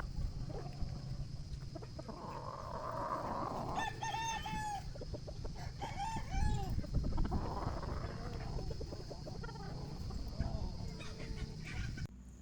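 Gamefowl roosters and stags on a game farm crow repeatedly, several overlapping calls at moderate distance, with clucking and a constant background hum.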